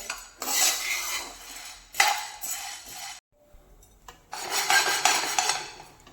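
Chana dal dry-roasting in a pan as a spoon stirs it continuously: scraping, rattling swishes of dry lentils against metal come in three long bursts with a short quiet gap between them, close and fairly soft, with no talking.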